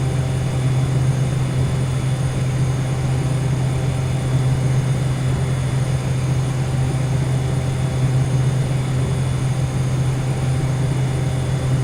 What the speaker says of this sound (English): Now this plane will climb really high.